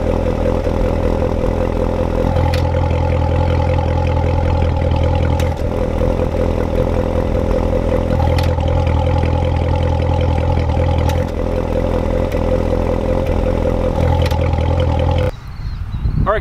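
A Chevrolet Corvette C7 Z06 with a Mild 2 Wild exhaust controller idles with a deep, steady rumble, its exhaust note blipping and swelling in brief revs every few seconds before cutting off near the end.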